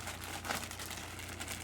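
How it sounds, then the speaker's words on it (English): Plastic crinkles and rustles continuously as a shipping bag is torn open by hand, with close, dense crackling lasting under two seconds. "So I'm just going to haphazardly rip this bag open."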